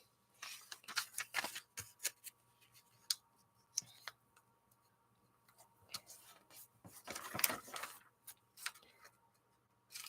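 Scissors snip through magazine paper in a quiet room: a string of soft, crisp cuts in irregular bursts, close and faint, with brief rustles of paper between them.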